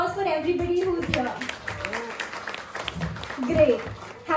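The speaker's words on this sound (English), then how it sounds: "A huge round of applause for everybody who's here" An office crowd at an International Women's Day celebration claps, giving moderate scattered applause under a speaker's voice and cheering voices.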